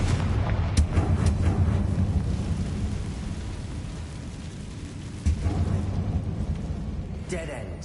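A Confringo blasting spell explodes in Hogwarts Legacy on PlayStation 5, a deep rumbling boom that swells, fades and then hits again with a second low blast, loud and close.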